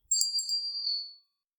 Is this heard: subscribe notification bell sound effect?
yes